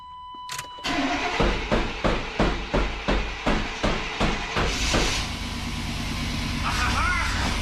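Rapid, even series of metallic hammer taps on a car's fuel pump, about a dozen blows, close and loud, then giving way to the car's engine starting and settling into a steady idle.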